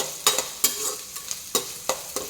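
Mustard seeds, urad dal, curry leaves, green chillies and onion sizzle in a pan while a spoon stirs them, giving close, rhythmic scraping strokes over a steady frying hiss.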